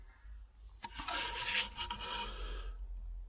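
Flat disc tool polishing the bare metal of a 1947–55 GMC/Chevy truck cab corner, making a steady abrasive rasping hiss that starts abruptly and runs for a couple of seconds, close up and without talk.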